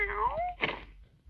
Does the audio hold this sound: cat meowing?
yes